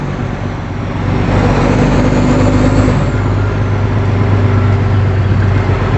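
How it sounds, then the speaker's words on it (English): A fully loaded semi truck's engine drones loud and steady from the hood, a deep continuous rumble mixed with road noise that rises in strength after the first second and holds. "Gotta make sure I'm as loud as possible because, you know, people have a really hard time seeing a giant semi"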